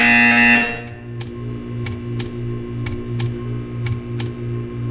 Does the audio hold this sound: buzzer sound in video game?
yes